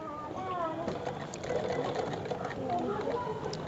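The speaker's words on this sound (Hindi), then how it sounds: "तो हम चलाकर देखते हैं कि हमारी मशीन सिलाई कैसी दे रही है" A sewing machine runs steadily after a bobbin case repair, a continuous close whirring stitch sound with no pauses, and no one speaks over it.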